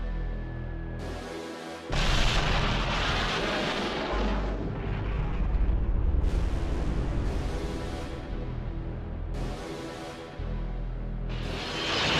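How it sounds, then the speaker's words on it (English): Heavy cannon blasts boom out one after another, each a loud, rumbling explosion with a rolling tail, repeated several times at a steady pace. "Yeah, some big heavy-hitting cannon."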